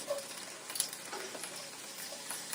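Onions sauté in a skillet as part of a roasted chicken and vegetable dish, giving a steady, close hiss of sizzling with faint crackles and small stirring movements throughout.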